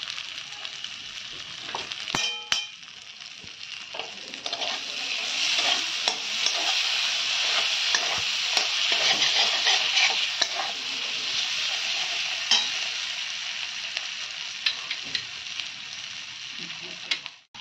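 A spoonful of ghee hits cooked spice paste for a fish-head moong dal, bursting into a loud sizzle that holds steady while a spatula scrapes and taps the pan; no one speaks.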